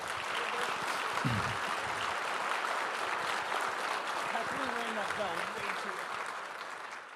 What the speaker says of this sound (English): How about a big round of applause for David and the Canadian Club?